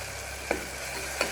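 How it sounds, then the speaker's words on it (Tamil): Tomato, crushed garlic, black pepper and cumin fry in hot oil for brown cowpea rice, a soft, steady sizzle broken by two quick stirring scrapes about a second apart. "எண்ணெயிலே நல்லா வதங்கணும்."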